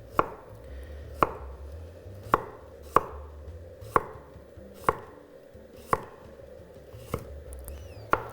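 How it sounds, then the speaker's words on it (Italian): A knife slicing a carrot finely into small sticks on a cutting board, giving sharp, evenly spaced chops about once a second, close and crisp over a quiet background. "E ora affetto anche la carota."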